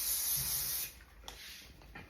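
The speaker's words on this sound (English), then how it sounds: "hairspray to lock in the makeup is amazing" Hairspray spritzed over a face of makeup: a steady aerosol hiss for just under a second, then it cuts off, leaving quiet room tone with a couple of faint clicks.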